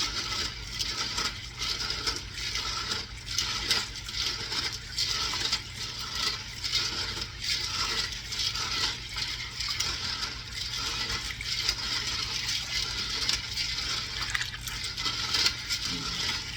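Steady swishing and sloshing of water with grainy rattling as beans are stirred and rubbed by hand, continuous and close, without speech.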